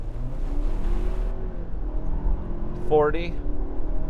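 A boosted 2022 Ford Ranger Tremor pickup accelerating hard from a standstill, engine drone rising steadily from inside the cabin while a voice calls out a speed.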